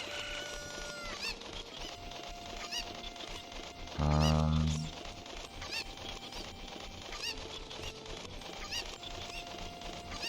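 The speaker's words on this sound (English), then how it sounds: "First thing I ever do whenever I enter Kakariko Village is to collect the birds, the cuckoos" A cuckoo, the chicken-like bird of Kakariko Village in Zelda: Ocarina of Time, gives one loud, honking squawk lasting under a second midway through, over steady game music with no speech.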